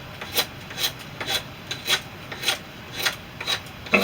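A blade scrapes wood in steady, rhythmic rasping strokes, about two per second, close and clear with no talking.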